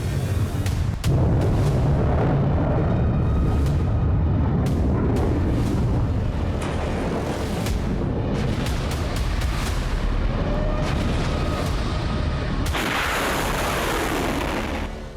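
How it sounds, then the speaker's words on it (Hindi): Missile strikes hitting Tel Aviv during the Iran–Israel war: a loud, continuous wash of deep rumbling booms and sharp blasts, dense and sustained throughout, with several cracking bursts standing out and no speech. "तेल अवीव पर मिसाइल हमला।"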